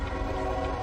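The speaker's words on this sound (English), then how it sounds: "There's a train coming." A train approaching, heard from inside a car on the road as a steady, fairly faint low rumble with a sustained horn-like tone, with no talking.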